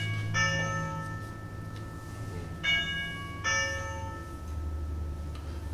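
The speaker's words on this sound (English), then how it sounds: "And you push the doorbell," Doorbell chime sounding several times: bright ringing tones in separate strikes with pauses between, over a low steady background hum, no talking.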